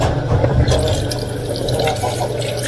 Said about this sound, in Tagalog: So, ang gagawin natin ay para maluto siya, lagyan natin ng tubig.